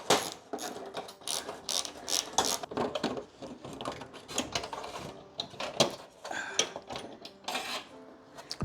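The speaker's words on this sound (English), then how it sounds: "I'll go ahead and get the radio popped out here." Ratchet clicking and clattering in quick, irregular bursts close by while the radio is pulled from an old Chrysler dashboard, with metallic taps and handling noises mixed in and no talking.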